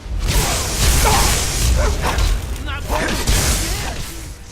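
A dog barks and snarls during a fight in the Skyrim role-playing game, several loud close yaps and growls mixed with combat swishes, with someone talking over them.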